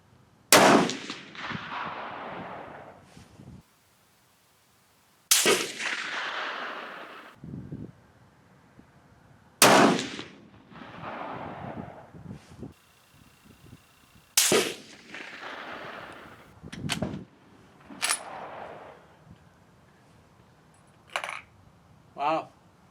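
Precision rifle shots from a Gruning Precision rifle and a Steyr 300M at an outdoor range, fired one at a time in a consecutive string, five sharp loud cracks spaced several seconds apart with fading tails and brief talk between them.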